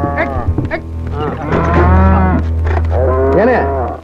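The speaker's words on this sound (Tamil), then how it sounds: "லாரில மாடுகளை எங்க ஏத்திட்டு போறீங்க?" Cattle loaded on a lorry moo loudly in several long, drawn-out calls, one after another, close by and with no talk over them.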